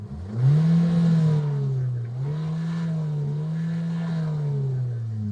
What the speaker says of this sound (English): Here's what the exhaust sounds like.